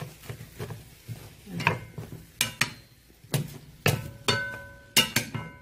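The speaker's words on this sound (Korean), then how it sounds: "이때부터 이제는 볶는 거예요" Eggplant and onion being stir-fried with soy sauce over low heat, with no oil, in a pan, giving repeated clinks and knocks of a utensil against the pan in an irregular rhythm, close by and moderately loud, with a low sizzling bed underneath.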